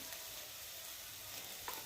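Spices with turmeric, garam masala, cardamom and black pepper powders frying in oil make a faint, even crackling sizzle, with a single light clink near the end.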